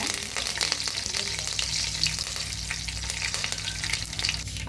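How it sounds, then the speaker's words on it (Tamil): Mustard seeds, urad dal and a handful of curry leaves fry in hot oil with a dense, continuous crackling sizzle and scattered sharp pops, loud and close with no speech. "ஒரு கைப்பிடி அளவு கருவேப்பிலை நல்லா ரோஸ்ட் ஆகிற அளவுக்கு பொரிய விட்டுக்கோங்க"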